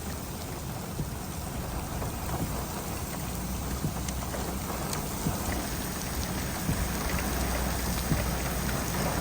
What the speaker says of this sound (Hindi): बेहतरीन बारिश हो रही है।